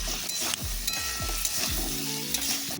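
Papaya and potato pieces with salt and turmeric are sautéed in a pan for fish curry, giving a steady close sizzle with repeated scraping stir strokes and a low rumbling hum underneath.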